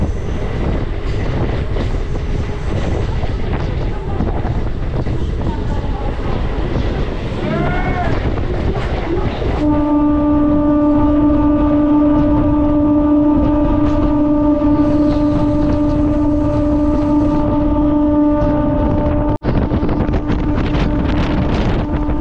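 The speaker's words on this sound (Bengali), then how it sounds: "ওদিক থেকে বারুইপাড়াতে আবার একটা লোকাল আসছে।" A Howrah-Bardhaman chord line local train running through a station, a loud rumbling roar with wind buffeting, then a steady tonal whine from the electric train as it passes close by, ending with a sharp clunk.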